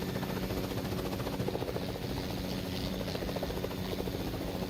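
A Fortnite helicopter in flight, a steady, dense rotor drone with a rapid chopping texture that stays close and loud throughout, with no talking.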